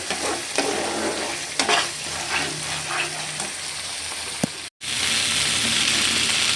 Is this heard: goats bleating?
no